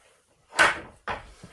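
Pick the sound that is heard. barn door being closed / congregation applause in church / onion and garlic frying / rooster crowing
barn door being closed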